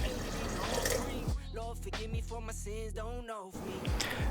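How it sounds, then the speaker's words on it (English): Water pours into a stew pot holding salted beef stock and smoked chuck roast, making a steady close splashing that rises into a ringing, filling tone for about two seconds before stopping. "And I will also add about a half a cup of water."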